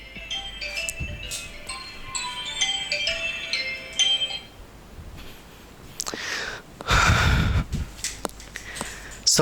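A mobile phone ringtone or notification chimes in a run of melodic tones, followed by rustling, handling noise and a few bursts, all fairly close with no speech.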